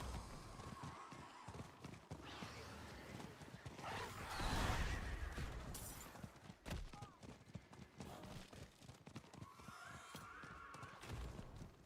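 A horse mount in Diablo IV whinnies and clip-clops along over game music and effects, with a player talking over it throughout.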